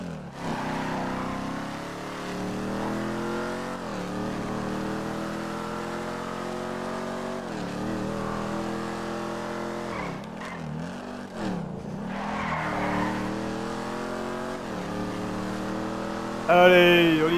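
A Mustang in Grand Theft Auto V revving and accelerating, the engine note climbing and dropping through gear shifts over a long stretch, tires briefly scrubbing near the end, with someone talking over it.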